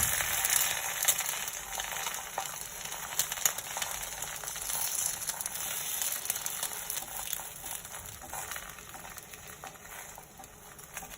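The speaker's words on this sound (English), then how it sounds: "Time to cook a bit of egg." An egg fries in an Aldi non-stick fry pan with a steady, soft sizzle and crackle that holds through the whole stretch, close by and fairly quiet, with no one talking.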